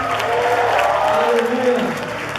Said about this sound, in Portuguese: Aplauda o Senhor, dê um brado de júbilo a Ele.